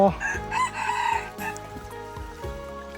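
A rooster on a mountain farm in the forest crows loudly and close, its long call stretching across the first half, followed by softer clucking and faint rhythmic background sounds.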